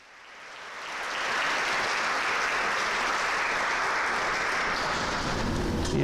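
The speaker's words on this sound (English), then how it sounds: "So let's give her a round of applause." Sustained audience applause for an award recipient at a high school all-school awards program, swelling over the first second into a dense, steady wash of many hands clapping that holds loud to the end.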